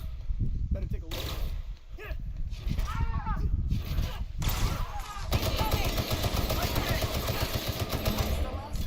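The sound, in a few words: gunfire, apparently from a video game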